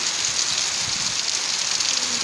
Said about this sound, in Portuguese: chovendo, muita chuva por aqui.